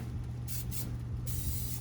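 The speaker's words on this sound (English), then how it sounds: "we're going to spray the grill." A steady hiss of aerosol cooking spray sprays in several bursts onto a hot grill over a low rumbling background hum.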